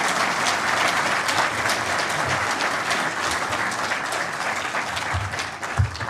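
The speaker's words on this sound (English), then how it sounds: "let's give him a round of applause" Steady applause from a panel audience, with many people clapping loud and even at first, then thinning and fading slightly toward the end, with a few low bumps of movement or murmur near the close.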